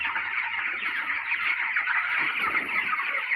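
A dense flock of chicken chicks on a poultry farm peeps continuously, a high, shrill chorus of many birds close by, steady throughout.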